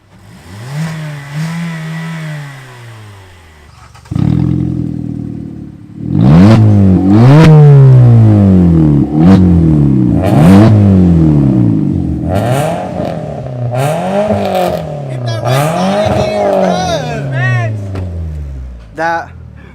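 Car with its muffler deleted, revving loudly in repeated rising-and-falling bursts close by, the engine note loud and raw, with people talking and shouting over it.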